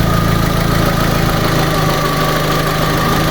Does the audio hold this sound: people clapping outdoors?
no